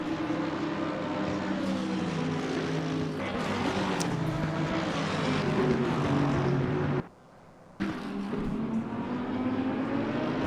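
GT race cars in Assetto Corsa Competizione restart at Spa-Francorchamps with a sustained, loud roar of engines, briefly cutting out to near silence before the droning resumes, with no voices.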